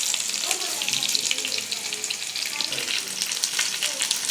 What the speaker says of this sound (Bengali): মিডিয়াম আঁচে সবগুলো চিকেন ভেজে নিব।